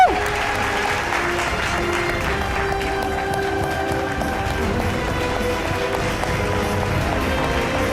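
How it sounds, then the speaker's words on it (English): Sustained applause from a large crowd, steady and dense throughout, with a sharp burst at the start. "A huge round of applause, please."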